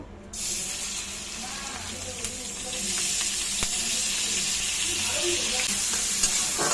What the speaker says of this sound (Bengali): এখন আমি এখানে জল ঝরিয়ে রেখেছি গোবিন্দভোগ চালটা, এটা একটু ভেজে নেব।